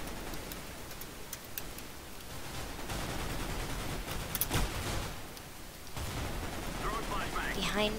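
Gunfire in a Mineplex Counter Strike video game, with bursts of rapid shots popping over steady background noise, while a player talks over the action.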